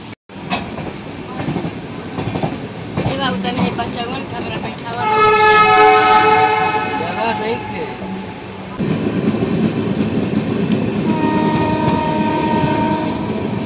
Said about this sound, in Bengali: বারাণসী থেকে আমাদের ট্রেন পরবর্তী স্টেশনের উদ্দেশ্যে রওনা দিচ্ছে